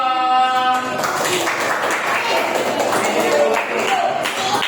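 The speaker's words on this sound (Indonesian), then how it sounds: "tepuk tangan untuk kelompok 2" A class of children in a classroom applauds a group, a burst of scattered clapping mixed with voices and chatter throughout.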